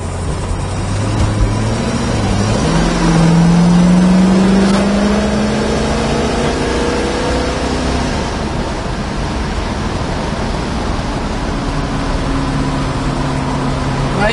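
A 1965 Ford Mustang fastback Shelby GT350 tribute cruising at 50 mph, a loud steady engine drone with tyre and wind roar heard from inside the car, the pitch rising briefly early on, then holding even.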